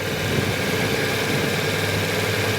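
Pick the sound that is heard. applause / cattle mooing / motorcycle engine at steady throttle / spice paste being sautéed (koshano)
motorcycle engine at steady throttle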